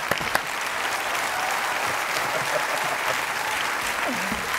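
Continuous audience clapping in a studio for a guest on a Spanish talk show, even and sustained throughout, with faint voices underneath.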